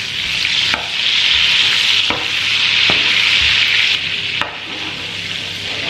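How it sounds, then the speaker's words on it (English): Butter melting and sizzling in a frying pan for a chicken and leek bake, a steady close hiss broken by a few sharp scrapes and knocks as it is kept moving, with no talk. "Just mind you don't burn the rest of the butter whilst this is still melting down."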